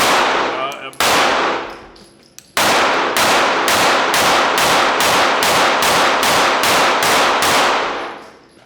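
A Springfield Hellcat Pro Comp pistol with a compensator fires at a range. Two sharp, very loud close shots are followed by a rapid, evenly paced string of about a dozen more.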